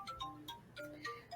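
A phone ringtone plays as a quiet, repeating sequence of bright melodic beeps over a faint background, with no talking.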